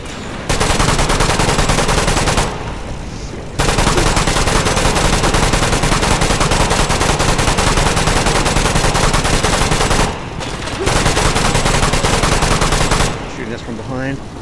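Gunfire in the VR shooter Metro Awakening arrives as loud, dense automatic bursts that run for several seconds, separated by two short pauses.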